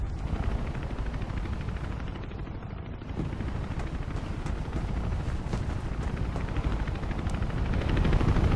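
A helicopter hovers in the video game Mirror's Edge, giving a continuous, dense rotor rumble and whooshing wash that holds steady throughout with no pauses.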